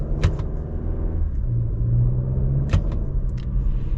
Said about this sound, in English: Gonna kind of just see how the gear shifts are.